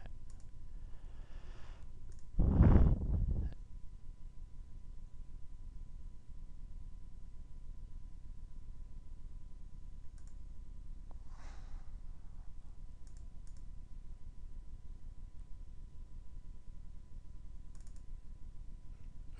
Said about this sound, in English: for this you also want to click a couple of times, don't click just once.